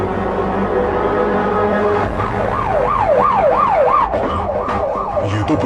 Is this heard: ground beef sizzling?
no